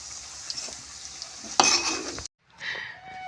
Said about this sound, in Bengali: তেলটা আমার গরম হয়ে গেছে, এবার আমি তেলে এগুলো সব ছেড়ে দেবো